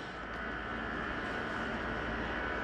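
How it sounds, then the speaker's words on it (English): A powered awning on a 2022 XLR Boost 25LRLE RV runs out with a steady, loud motor drone that holds even throughout, with no voices. "you only want to run this awning out until your flap falls down"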